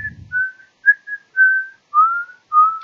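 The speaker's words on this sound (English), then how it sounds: "the rest of you guys hear a whistle coming from down the road" Someone whistles from down a dark road outside at night, a string of short and longer clear tones with gaps, thin and moderately distant, alone without talk.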